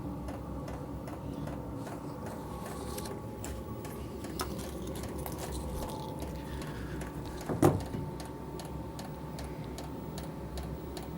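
A Chinese diesel heater bought from eBay runs in a garage, giving a steady, fast mechanical ticking pulse over a continuous low hum, with one brief louder clunk partway through.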